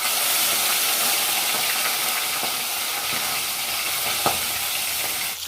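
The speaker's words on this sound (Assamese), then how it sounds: "এইফালে এতিয়া মই মাছ ভাজি আছোঁ" Goroi fish frying in hot oil in a home kitchen, a steady loud sizzle and hiss throughout, with faint scraping stirs and a small clatter near the end.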